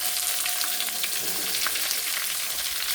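Sliced onion, with chopped coconut and fennel, sautés in a pan, making a dense, loud, steady sizzle with small crackles that holds at a constant close level.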